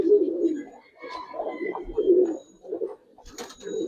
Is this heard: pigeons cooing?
yes